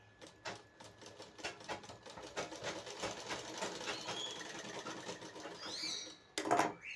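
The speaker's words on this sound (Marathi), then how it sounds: "मग इथे याला डबल शिलाई मारून घेते" A sewing machine stitching a double seam on a katori blouse, rapid rhythmic needle clatter running steadily for several seconds, close and quiet, then stopping with a brief click and a fabric rustle.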